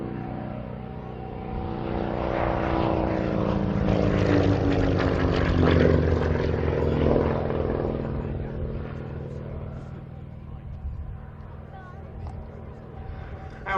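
Percival Provost piston-engined RAF trainer flying by, its propeller drone rising to a loud peak mid-pass and fading away at an air display, with a voice talking over it.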